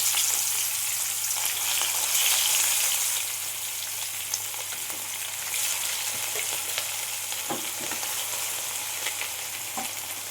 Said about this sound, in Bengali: এবার তেল গরম হয়ে গেছে, আমি মাছগুলো একটা একটা করে দিয়ে ভেজে নেব।